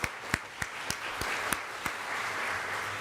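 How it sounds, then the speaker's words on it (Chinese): A church congregation at a worship service welcomes guests by clapping, starting with evenly spaced single claps that merge into sustained, moderately distant applause. "我们拍手欢迎他们"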